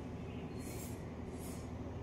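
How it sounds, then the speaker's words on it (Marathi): A Mumbai Aqua Line 3 underground metro train pulls into the station, heard as a faint, even rumble of rolling wheels with brief higher whooshes, and no voices. "तर आता ही ट्रेन आता येत आहे बघा. ही ट्रेन आली आहे बघा."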